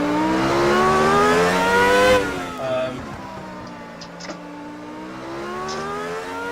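Race car engine in the Automobilista racing game revving hard with a rising, harmonic-rich whine, then dropping off as revs fall and climbing again, loud and close.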